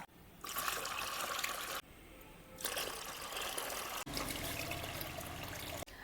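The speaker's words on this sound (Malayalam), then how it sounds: "ഒരു കപ്പ് കഞ്ഞിവെള്ളം ഒഴിച്ചു കൊടുക്കുന്നുണ്ട്" A cup of fermented rice water pours into a flower pot, a steady trickling stream in several bursts separated by brief pauses, with no voices.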